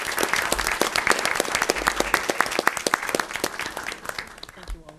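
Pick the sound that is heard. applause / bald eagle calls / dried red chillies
applause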